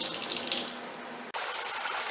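Hands are washed with soap under a running faucet, a close, steady splash of water that shifts partway through as the flow changes, with no talking.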